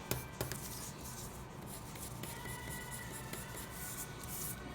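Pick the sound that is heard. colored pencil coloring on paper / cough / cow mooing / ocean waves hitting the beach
colored pencil coloring on paper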